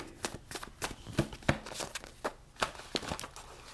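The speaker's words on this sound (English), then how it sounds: "Oh, that was a nice shuffle." Tarot cards being shuffled by hand, a run of quick papery riffles and soft slaps in an irregular rhythm, close and fairly quiet with no talk.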